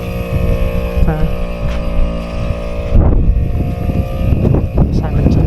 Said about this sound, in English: we're just pumping up the tires because looks like we have bitumen all the way now